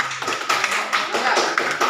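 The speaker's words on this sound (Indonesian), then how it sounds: "Tepuk tangan dulu kelompok saya." A small classroom group claps in a brief, uneven burst, separate hand claps audible close by with a few voices mixed in.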